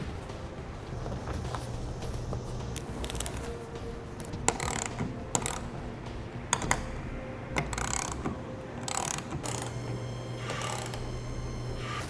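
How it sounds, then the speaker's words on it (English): Clamps on a TruXedo TruXport soft roll-up tonneau cover being tightened at the rear of a pickup tailgate: repeated ratcheting, clicking mechanical turns with a few sharp knocks over a steady background hum. "Now we can roll it back up and tighten the clamps at the rear of the tailgate"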